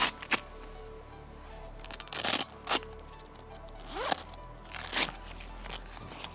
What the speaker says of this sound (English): These corners here have a zipper that we can just unzip like that.